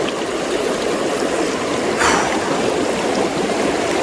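Fast water rushing through a river riffle, a loud continuous broadband roar with a brief brighter splash partway through, heard close and alone.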